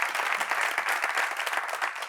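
A crowd in a television talk-show studio applauds steadily as a woman comes up to speak, a dense, even patter of many hands throughout.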